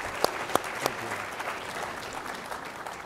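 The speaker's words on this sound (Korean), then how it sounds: "큰 박수 부탁드리겠습니다." Audience applause welcoming a speaker at a global finance leaders' forum, a steady wash of clapping with a few sharper claps standing out near the start.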